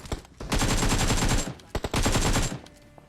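Rapid automatic gunfire in a shooting video game, two long loud bursts separated by a few single shots, close and dominant with no speech over it.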